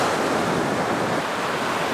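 Sea waves break on a sandy beach in a loud, steady, continuous rush of surf and spray close at hand, with no voices.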